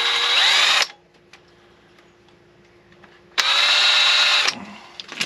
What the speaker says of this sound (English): drill these rivets out